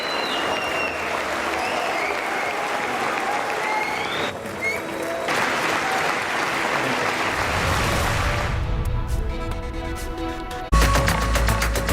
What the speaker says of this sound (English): Prime Minister Modi receives applause and standing ovations during his joint address at the US Congress.